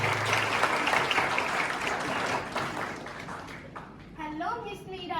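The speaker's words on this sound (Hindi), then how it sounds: "तालियां।" Audience applause at a school one-act play, a dense wash of clapping that tapers off as a performer's voice and music come in over the last second.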